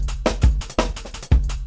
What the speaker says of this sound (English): On the top one, I have a drum and bass loop